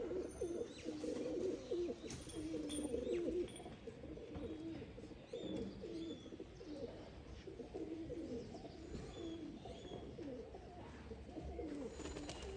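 A flock of pigeons, some new and some first-year birds, coos steadily in their loft, with overlapping low murmuring calls and faint chirps continuing throughout and no talking.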